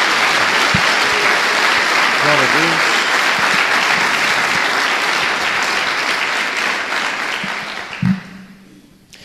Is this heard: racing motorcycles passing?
no